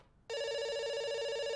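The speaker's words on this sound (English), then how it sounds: "It's ringing." A telephone rings in the indie game Dr. Langeskov, The Tiger, and The Terribly Cursed Emerald, starting abruptly after a short quiet gap with a loud, steady, sustained electronic ringing tone heard alone.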